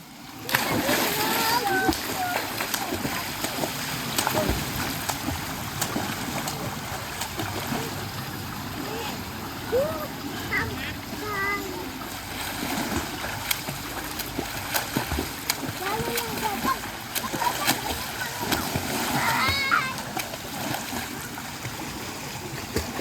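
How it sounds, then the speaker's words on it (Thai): Children splashing in a swimming pool as they learn to swim, with constant splashes and water churning throughout, and voices talking and calling over the water. "ตอนนี้ภูมิ 10 ขวบ ผู้ผา4 ขวบ กำลัง หัดว่ายน้ ำ"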